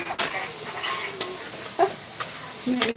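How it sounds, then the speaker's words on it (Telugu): Ginger garlic paste frying with mutton in a clay pot, a steady sizzle with a few scraping stirs and clinks, close and alone. "అల్లం వెల్లుల్లి పేస్ట్ వేసేసి ఫ్రై చేసేయాలి"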